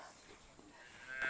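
Miniature Thai cattle mooing at a goshala, a few soft low calls close by, the last one louder and more drawn out against a quiet background.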